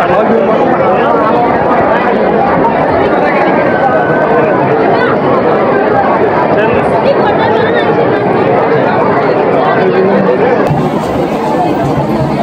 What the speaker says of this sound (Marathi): इकडं गर्दी बघा ना